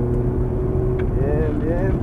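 An exotic sports car accelerates through a curve on a track near Cancun, Mexico. Its engine hums steadily, then the pitch rises and wavers, while someone talks loudly in Spanish over it.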